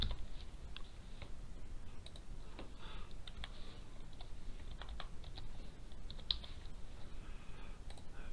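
Computer keyboard typing in quiet, close surroundings while an item is entered on a sheet: a loose run of soft, irregular key clicks with no talking.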